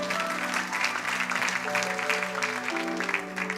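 A church congregation claps and cheers in praise during a French-language sermon, a steady, dense wash of applause with sustained voices and tones underneath for the whole stretch.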